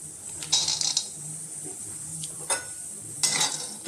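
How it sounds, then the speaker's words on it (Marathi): Pistachios dry-roasting in a pan, stirred now and then: a faint low sizzle under quiet scraping and rattling bursts of nuts shifting against the metal. "आता आपण पिस्ता भाजून घेऊ"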